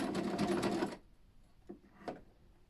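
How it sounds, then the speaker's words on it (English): A sewing machine stitches down the outer corner of a fabric collar in a dense, close, rapid burst that stops abruptly after about a second, followed by two faint clicks in quiet. "just to sew about 1 centimetre down the outer corner here"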